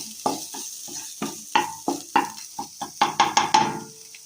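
Soup ingredients are lightly sautéed in a pan, with a quick series of rhythmic spatula scrapes and clacks over a soft sizzle, close and clear.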